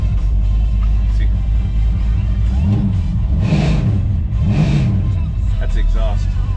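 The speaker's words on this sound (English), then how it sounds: "That's the exhaust." A 1969 Dodge Charger R/T's exhaust rumbles loudly and steadily, with a few rising-and-falling revs swelling in the middle, heard up close as a continuous deep engine roar.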